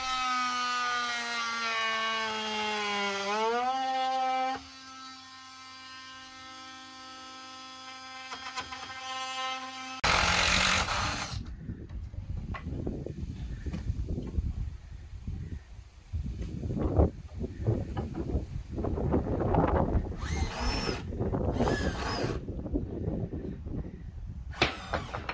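A small oscillating saw cuts wood while a tiny home on wheels is built, a busy buzzing rasp with uneven bursts and pauses after a first stretch of steady tonal sound.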